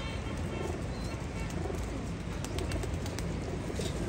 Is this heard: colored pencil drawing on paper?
no